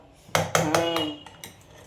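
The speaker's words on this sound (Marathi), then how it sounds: "चला आता याला आपण झाकून ठेवूया." A metal lid is set down over a pot of freshly cooked fried rice, giving two sharp clanks close together and then a ringing metallic rattle that fades, with a few lighter knocks after it. No one speaks.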